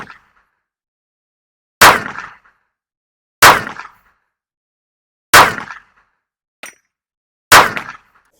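An Aero Precision M5 AR-10 rifle fires 150 grain rounds: four loud, sharp single shots spaced about two seconds apart, each with a brief echoing tail, plus a faint metallic click between them.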